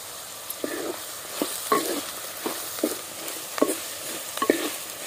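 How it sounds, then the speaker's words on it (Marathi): Vegetables sautéed with turmeric and spices in a pan for a spiced village-style masala rice, giving a steady sizzle with a string of spoon or spatula scrapes spaced every half second or so, close by and alone. "मी 2 मिनिटं भाज्या चांगल्या परतून घेतल्या"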